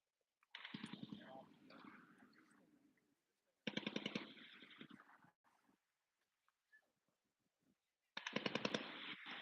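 An M240 machine gun fires three rapid bursts at a military competition range, sharp and loud with quiet gaps between and faint background voices.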